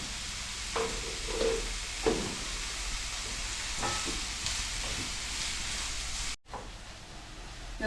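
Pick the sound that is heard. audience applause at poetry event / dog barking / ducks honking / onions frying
onions frying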